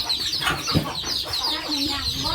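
Chickens cluck and chatter in a farmyard, a busy overlapping mix of short clucks and squawks at moderate distance for a couple of seconds.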